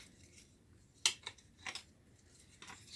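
Quick snips cut the overlong wires on a cheap plasma cutter gun, a few faint sharp clicks and rubs spaced irregularly in a quiet room.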